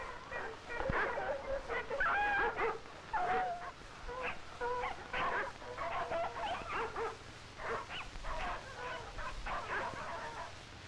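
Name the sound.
sled dogs barking and whimpering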